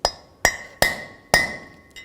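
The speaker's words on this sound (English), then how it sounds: "take a punch and a hammer, and I'm just going to push out the race, the bearing race" Steel hammer striking a drift punch to drive a front wheel bearing race out of the hub on a 1999–2004 Nissan Pathfinder, four sharp metallic ringing taps at uneven spacing, close and clear, with a fainter fifth tap at the end.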